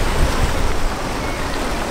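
Ocean waves break over an island reef as a steady, broad roar of surf with wind rumble, continuous and fairly loud throughout, with no voices.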